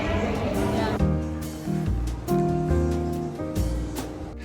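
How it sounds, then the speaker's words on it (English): A small indoor waterfall in a Bangkok shopping mall gives off a steady rushing wash of falling water, mixed with shifting tonal mall sounds and bursts of background noise. "Look at that little waterfall."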